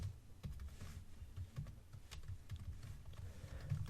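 Keys clatter on a computer keyboard as code is entered, a quiet, irregular run of soft clicks and taps over low room hum, with no voices.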